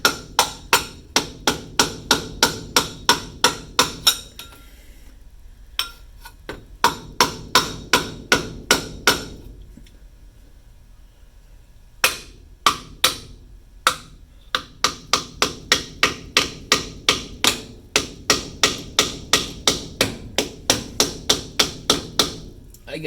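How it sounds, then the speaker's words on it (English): A soft hammer drives a new pinion seal into place on a Bantam Jeep, striking a header flange that serves as the driver. Close, sharp taps come in rapid, steady bursts, separated by short pauses. "Use a soft hammer."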